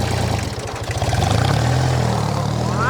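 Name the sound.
tractor engine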